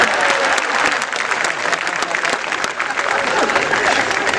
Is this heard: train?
no